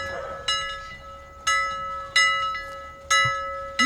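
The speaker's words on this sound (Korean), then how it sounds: "창문을 열자 맑고 상쾌한 크리스마스 아침의 종소리가 울려 퍼지고 있었어요." Bells ring out on a clear Christmas morning, four bright struck tones spaced about a second apart, each decaying into a steady ringing hum with no voices present.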